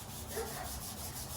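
Soft, steady rubbing of cloth over gritty, contaminated old car clear coat, a faint scratchy friction sound, close and quiet with no talking.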